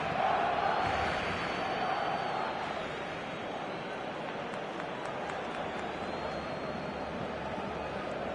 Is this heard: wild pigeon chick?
no